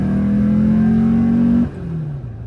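A Volkswagen Beetle with a 2.2-litre engine revs up loudly and close, its drone climbing steadily in pitch before easing off as the throttle lifts.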